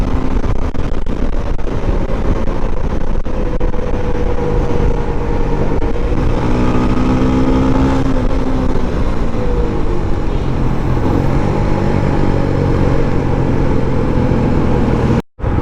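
Engine noise from TVS Apache RR 310 motorcycles riding, a steady loud drone with rising and falling revs that continues throughout and cuts off abruptly at the very end.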